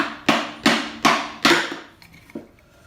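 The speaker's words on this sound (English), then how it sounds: "So now with the hammer, once you get this lined up and put that on there, just lightly tap along it." A hammer taps wooden BeeCastle hive parts together in four evenly spaced, crisp knocks, followed by a couple of fainter lighter taps, close and clear with no talk.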